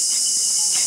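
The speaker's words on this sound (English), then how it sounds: "Crickets. Imagine trying to sleep out here." A dense, continuous high-pitched chirring of crickets fills the air outdoors in Ghana, steady and unbroken.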